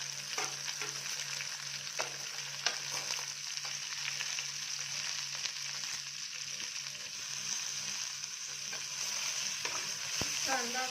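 Chopped onion sautés in a pan for chole, giving a soft, steady sizzle with occasional scraping and clicking from stirring throughout.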